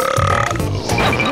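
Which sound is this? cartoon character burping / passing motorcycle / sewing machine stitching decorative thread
cartoon character burping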